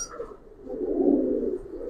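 Giribaz and coloured pigeons coo softly at close range, a low rounded murmur swelling in the middle and holding steady, with a faint chirp at the start.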